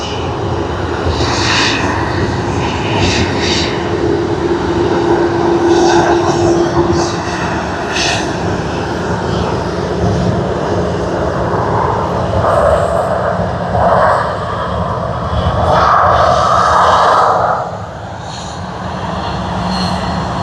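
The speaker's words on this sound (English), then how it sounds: "Focus is on that one, Starline's livery, Boeing 777-200ER of Asiana Airlines" Boeing 777-200ER jet airliner of Asiana Airlines in Star Alliance livery at Sydney Airport, its engines giving a loud, steady roar that stays continuous throughout and eases slightly near the end.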